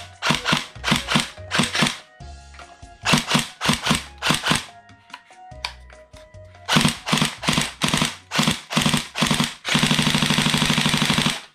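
Rapid bursts of shots from an AK Storm blaster, fired in quick clusters with short pauses and mechanical clicks between them, loud and close, ending in a sustained rattling volley.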